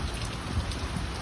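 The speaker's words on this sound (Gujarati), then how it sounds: "તો ગાઈસ તમે જોઈ શકો વરસાદ એકદમ મસ્ત આવે છે પૂરમ ફાસ્ટ." Heavy rain pours down in a village, a dense, steady hiss of drops drumming on surfaces, close and unbroken, with no talk.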